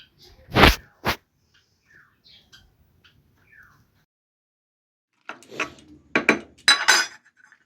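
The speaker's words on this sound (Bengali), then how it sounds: "চলুন কুকারের মধ্যে আগে ঢুকিয়ে নিই সমস্তটা" Vegetables for a chicken stew go into a pressure cooker with a couple of sharp metallic clunks, then a quiet pause and a cluster of clinks and clatter.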